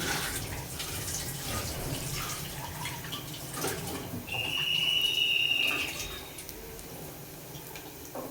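Lentils (dal) rinsed under a running kitchen tap, a steady wash of water with a brief brighter splash midway, close and fairly quiet with no talk over it.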